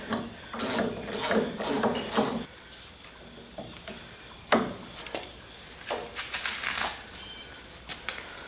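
Ratchet loosening the belt tensioner on a zero-turn mower deck, with quick bursts of sharp clicking pawl ticks, a pause, then scattered single clicks and metallic clunks nearby.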